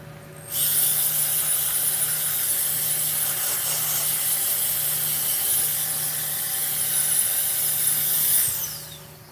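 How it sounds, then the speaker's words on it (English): A fountain pen blank for an Orion pen spins on a lathe while being sanded, a steady high whine with faint hum and abrasive hiss, starting abruptly and running evenly for about eight seconds before spinning down. "I'm gonna put a mask on to sand it."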